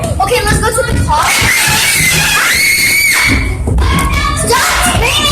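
A person screams loudly and close, long high-pitched shrieks rising and falling across several seconds, mixed with excited talk, thumps and shuffling.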